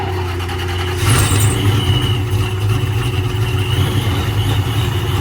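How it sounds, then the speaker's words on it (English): A Chevrolet C6 Corvette ZR1 engine runs nearby, first at a low idle, then rising into a louder, rougher, pulsing rumble that holds steady to the end. "you need to hear it run"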